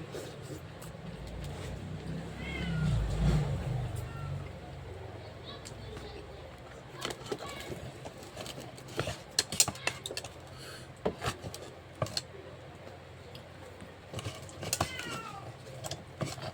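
A domestic cat meows near the microphone, one clear meow early on, among quiet kitchen clatter while people talk during a meal.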